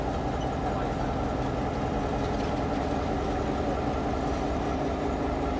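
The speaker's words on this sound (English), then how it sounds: "Number 80 is classified as an EMD GP38, the GP in that name standing for General Purpose" An EMD GP38 diesel locomotive, number 80, rumbles with a steady low engine drone, constant and moderately loud, with no voices over it.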